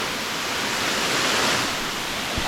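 Kaparkan Falls in Tineg, Abra, pours in a steady, full roar of falling water, a dense unbroken rush that stays close and loud throughout with no voices over it.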